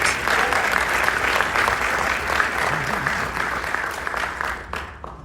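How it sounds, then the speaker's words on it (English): An evening audience in Chicago applauds Congressman Davis with sustained, dense clapping that fills the room at steady loudness before tapering off in the final second. "Please give Congressman Davis a great round of applause."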